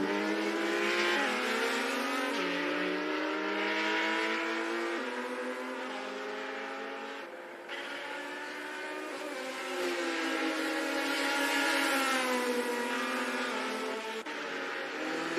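Race cars in a virtual racing video game scream through continuous high revs, shifting pitch as they accelerate and brake, loud and sustained throughout with no voices.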